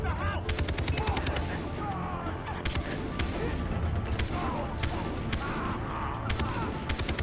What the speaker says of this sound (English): I like how these bullets are just going everywhere but in that guy's chest.